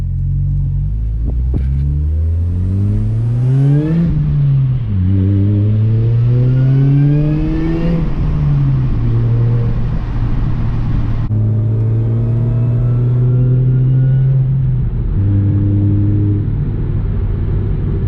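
A Chevrolet Cobalt SS engine, 130,000 miles, revs hard toward redline through several rising pulls and shifts, loud and close with a deep droning rumble and no talk.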